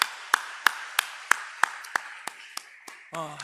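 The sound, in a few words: applause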